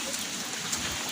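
Heavy rain pours down in a tropical storm, a dense, loud, unbroken hiss of drops with no other sound standing out.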